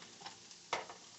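Butter, onions, shallots and mushrooms cooking in a pan for lobster thermidor, a soft, faint sizzle with a few scraping stirs, one sharper scrape near the end.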